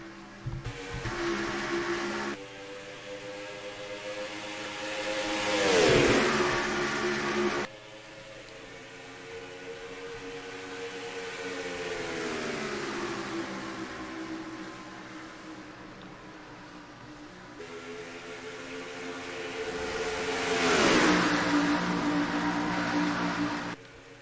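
Stock car engines drone and whine in a sim racing game as the field races in the Mountain Dew Zero Sugar 300, with rising and falling pitch sweeps as cars pass close by, steady engine noise throughout, no talking.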